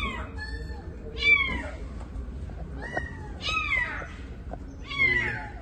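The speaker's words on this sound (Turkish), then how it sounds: "Telefonla kedi sesi veriliyor." A cat hiding in a car meows repeatedly, about four drawn-out calls spaced roughly a second apart, over a low rumbling background.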